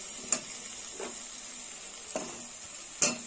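A steady hiss of spices sizzling in hot oil fills the pan while fried potatoes are stirred in for a vetki kalia, with four sharp clanks of a spatula against the pan close by.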